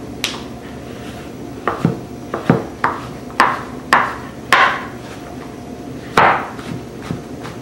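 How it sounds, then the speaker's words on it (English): Knife coarsely cutting an ingredient for double chocolate rum cookies on a board, about a dozen distinct, loud, close chops in an irregular rhythm with short pauses between. "I'll coarsely cut enough for 1/2 cup."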